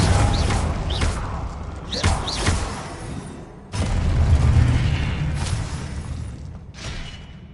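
Confringo explosion spells go off in Hogwarts Legacy with repeated deep booms and thuds, each followed by a rumbling tail, loud and close, with a few brief magical whooshes.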